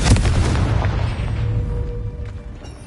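A Confringo fire spell detonates in Hogwarts Legacy with a loud, close boom, its heavy low rumble decaying gradually over a few seconds.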